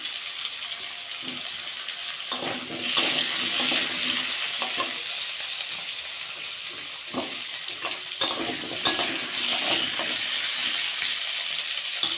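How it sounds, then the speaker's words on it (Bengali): Potatoes for a rohu fish curry with cauliflower fry in oil in a pan with a little salt, giving a soft continuous sizzle with intermittent spatula scrapes and stirring clatter, fairly quiet and close. "তো আমি এর জন্য তরকারির আলুগুলো ভেজে নিই।"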